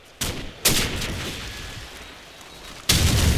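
A loud video game grenade blast in Call of Duty 4: Modern Warfare booms out, followed by a rumbling tail and another sharp boom near the end, over steady background din.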